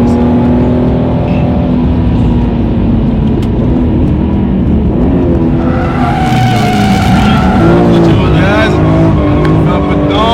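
A BMW M3 E46 engine drones loudly, then tires squeal in long wavering screeches as the car drifts sideways, with a voice talking over it.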